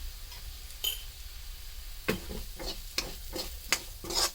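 A spoon stirs field bean curry with chilli powder in a pan, giving a series of sharp scraping strokes in an irregular rhythm over a faint sizzle, close and clear.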